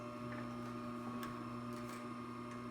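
A Columbia N430-2 Japanese-made industrial sewing machine, freshly overhauled, stitches fast at full stitch length, making a faint, steady mechanical hum with a low motor drone and a few light ticks, and no talking.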